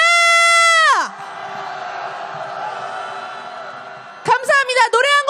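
Protest crowd at a street march calling for President Yoon Suk-yeol's impeachment over his veto of the Itaewon disaster special law. A rising, dense roar of shouting voices follows a loud amplified call, and individual voices break through near the end.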